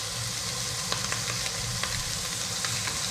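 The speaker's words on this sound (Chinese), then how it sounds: "有听到啪啪啪的声音了哈。" Fish fillets dry-fry in a pan with a steady, close-up oil sizzle, scattered sharp pops and crackles breaking through the continuous hiss.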